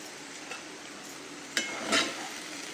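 Raw mango and cashew curry with turmeric is stirred in a pan over a low, steady sizzle, with a couple of soft scraping sweeps of the spoon, close and quiet.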